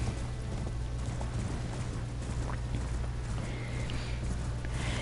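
Hoofbeats of a mounted boss's horse in the video game Elden Ring, a faint rhythmic clip-clop buried under a dense, steady game soundscape with a low hum.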